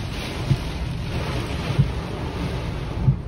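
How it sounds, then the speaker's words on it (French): Strong thunderstorm wind gusts roar and buffet the microphone in a steady rush, with low thumping gusts hitting every second or so. "Les rafales de vent."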